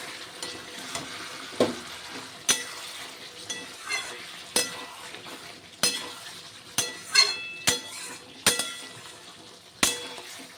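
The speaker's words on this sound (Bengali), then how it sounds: "এবার নাড়াচাড়া করে নিচ্ছি" A spoon stirs pointed gourd coated in poppy seed paste in a pan, giving a steady rhythm of sharp clinks and scrapes roughly every second over a soft, low sizzle, with no talking.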